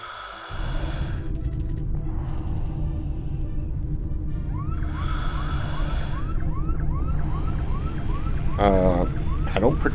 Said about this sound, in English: I don't particularly want to hear